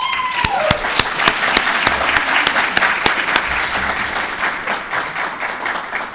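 An audience at a Florida Public Safety Institute graduation ceremony applauds in a dense, steady wash of clapping that holds for several seconds, loud and close, with a few sharper individual claps standing out.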